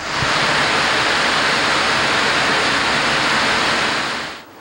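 Rushing water of a waterfall-like cascade in a fish-ladder pool near a hydroelectric plant on the Rio Grande, a dense, loud, continuous roar that holds steady and fades out at the very end.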